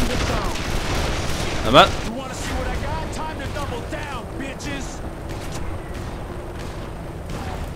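Gunfire in the video game Call of Juarez: The Cartel, bursts of shots and a louder blast under near-constant talking by players.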